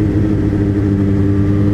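Suzuki GSR 750 motorcycle engine running while riding, a steady, loud mid-pitched drone with a constant rumble and no change in pace, heard alone without voices.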